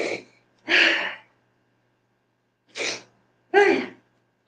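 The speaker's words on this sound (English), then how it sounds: "I really need to sneeze." Four bursts: a sharp sneeze, a second louder sneeze, then after a pause two more close together, up close with no talking.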